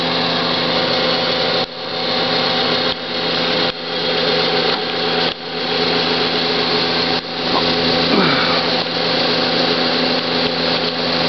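A 1953 ILG vintage electric wall exhaust fan running, a loud steady whirring drone with motor hum, briefly dipping a few times when the recording shifts.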